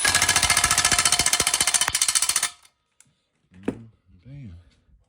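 Milwaukee 12-volt Fuel power tool hammering skid plate bolts on a 2022 CRF110, a loud fast rattling burst of about two and a half seconds that stops abruptly, followed by a short spoken remark.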